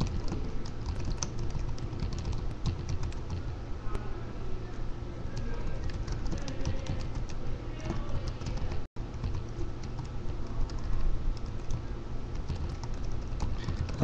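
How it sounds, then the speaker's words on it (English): Someone types on a computer keyboard in a rapid, irregular patter of close key clicks that runs steadily for the whole stretch. One brief gap breaks it midway, and no one talks over it. "I'm just typing in the place where you can find the information."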